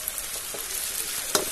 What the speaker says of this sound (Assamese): কলডিলখিনি দি অলপ ভাজি